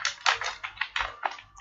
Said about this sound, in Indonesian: Tinggal ketik saja di sini.